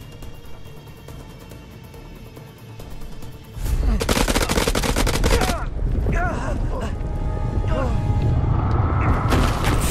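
Heavy automatic gunfire from the video game House of Ashes erupts loudly after a quieter tense opening, continuing as dense rapid bursts with booming impacts while voices shout over it.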